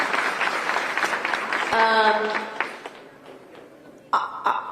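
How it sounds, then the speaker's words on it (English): Applause from the audience at a public event hosted by the New Mexico governor in Las Cruces, a sustained round of clapping with some cheering that fades, followed by a few sharp noises. "Everyone give this young woman a round of applause because she is amazing."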